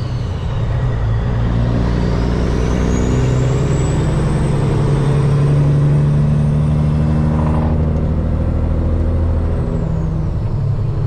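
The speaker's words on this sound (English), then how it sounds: "And they use a lot of air. You can hear it pumping through the system." Air hisses through the lift axle system of a multi-axle trailer over a steady, loud truck engine rumble, with a sustained rising whine and a brief release partway through, and no talking.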